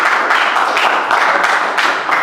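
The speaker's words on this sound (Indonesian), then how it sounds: "Oke, tepuk tangan untuk kelompok 1." A schoolroom group claps for the first team, producing a loud, dense patter of many hands that keeps going with small swells through the moment.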